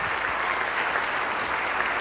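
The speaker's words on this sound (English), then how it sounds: "let's give Tim Howard a round of applause for helping me out" An audience applauds steadily, a dense wash of clapping from many hands throughout the short stretch with no pauses.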